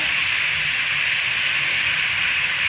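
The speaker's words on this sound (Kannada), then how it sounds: "ಜಸ್ಟ್ ಒಂದು ಸ್ವಲ್ಪ ಫ್ರೈ ಮಾಡ್ತೀನಿ" Food fries in a pan on a home stove with a loud, steady, close-up sizzling hiss that runs without break and without talk.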